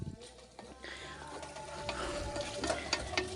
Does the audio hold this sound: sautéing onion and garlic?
yes